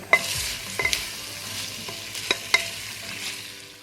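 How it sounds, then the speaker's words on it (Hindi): Spiced chickpeas sizzle in a hot pan, with a few sharp clanks of a spoon stirring and scraping against the metal. "इन छोलों को भी मसाले के साथ 2 से 3 मिनट के लिए भुनेंगे"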